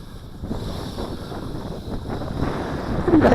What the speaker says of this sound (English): I got a lot of wind here, folks.